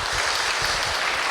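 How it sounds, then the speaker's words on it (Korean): A short burst of dense, steady applause from a large congregation at a church revival service, loud and continuous. "우리 하나님께 영광의 박수를 드릴까요?"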